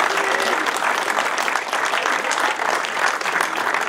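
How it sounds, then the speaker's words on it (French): Loud, steady audience applause fills the air at a hill climb podium ceremony in Turckheim, dense clapping continuing without a break from start to finish. "Et je vais vous demander de l'applaudir comme il se doit."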